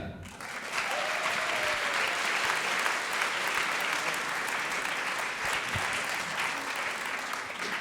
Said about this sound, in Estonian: veel kord aplaus palun AG-le